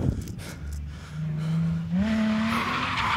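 A Nissan 350Z drifts with a loud, rising engine note, then its tires break into a sustained squeal, all close to the microphone.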